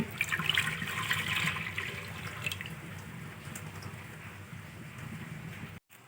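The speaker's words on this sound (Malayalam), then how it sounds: "ഇനി ഇത് നമുക്ക് കഞ്ഞി വെക്കുന്ന കലത്തിലേക്ക് ഒഴിക്കാം." Herbal juice for Karkidaka medicinal rice gruel is poured into a clay cooking pot as a continuous close splashing, trickling stream that runs for several seconds, then stops abruptly.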